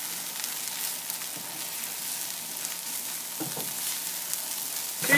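Zucchini boat stuffing fries in a pan with a steady, even sizzle and a few soft crackles and stirring scrapes, with no talk.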